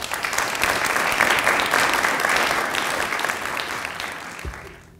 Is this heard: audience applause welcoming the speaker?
yes